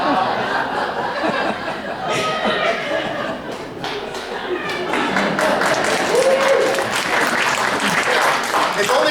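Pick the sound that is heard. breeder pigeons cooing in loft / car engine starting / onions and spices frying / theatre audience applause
theatre audience applause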